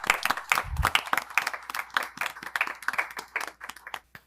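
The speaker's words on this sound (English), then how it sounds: "round of applause, ladies and gentlemen," Applause from the audience at a televised secondary schools climate quiz competition, close and lively, with sharp individual claps running steadily for about four seconds.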